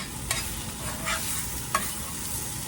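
Stirring onion and parmesan meatballs in a skillet with browning flour and little oil, a soft scraping broken by a few brief louder strokes over a steady low background, no one speaking.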